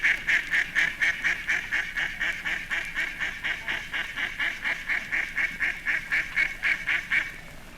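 Mallard ducks quacking on a small lake or town water, a steady run of loud, nasal quacks repeated in quick rhythm for several seconds at close range, with no voices.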